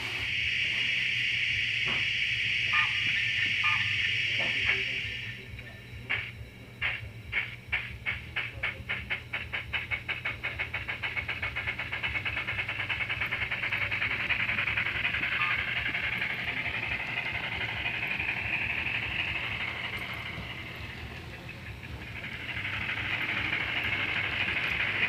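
A Bachmann Branch-Line Baldwin class 10-12-D narrow gauge model steam locomotive with DCC sound runs with a full train, a loud whistle giving way to rhythmic chuffing that speeds up into steady running, with another whistle blast later.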